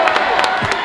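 Crowd at a basketball game clapping and cheering, a dense roar of many voices with rhythmic claps rising through it, loud and close.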